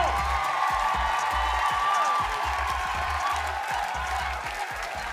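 Studio audience on a Brazilian Sunday TV variety show applauding and cheering after a lip sync battle, a dense steady wash of clapping and whoops over a pulsing musical beat, gradually easing toward the end.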